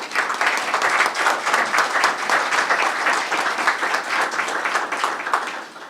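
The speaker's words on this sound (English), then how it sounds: "How about a round of applause for Mayor Wilfred Rosas" A City Hall audience in Dunkirk, New York, applauds the mayor at a summer events press conference, with sustained crowd clapping that stays even and full for several seconds without voices.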